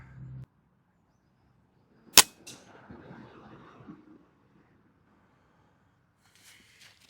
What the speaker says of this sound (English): I've had a few shots just to warm the gun up.